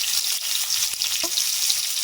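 Potatoes frying in hot oil while cooking a katla fish curry, giving a steady close sizzle with faint crackles and a brief stirring clink throughout.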